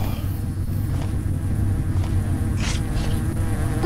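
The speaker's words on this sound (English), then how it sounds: "Why are there so many bees?" In the video game Hungry Lamu, a swarm of bees buzzes in a low, continuous drone over a rumbling game background, steady throughout with no speech.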